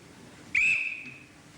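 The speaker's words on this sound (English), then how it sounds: "Well, he ought to blow his whistle when he says..." A single sharp whistle blast, loud and close, holding steady for about half a second before fading, with no one speaking over it.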